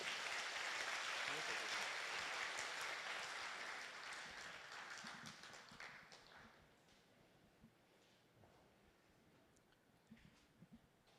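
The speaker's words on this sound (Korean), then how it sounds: "우리 박수로 한번 맞겠어요?" A church congregation applauds during a Sunday worship service, a broad wash of clapping that starts full and steady, then thins and fades out over several seconds, leaving scattered faint sounds.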